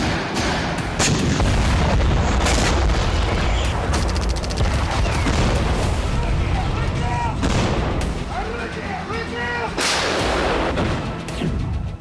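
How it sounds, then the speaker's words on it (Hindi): M1989 Koksan self-propelled long-range artillery firing, heavy booms and blasts repeating through the stretch with dense rumbling noise between shots, loud and close, no talk over it. "किम ने M1989 Coxon self propel artillery भेजी। M1989 कॉक्सन लॉन्ग रेंज की आर्टिलरी है।"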